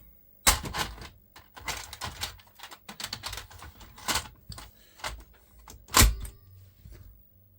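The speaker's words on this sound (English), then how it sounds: "let's eject and turn the tape over and see what else is on there" A Philips VR2021 VCR ejecting a videotape, a run of sharp mechanical clicks, clacks and clunks, with a heavier thunk near the end, close up in a quiet room.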